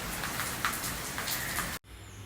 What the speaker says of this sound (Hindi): आज मौसम भी खुश है और बारिश कर रहा है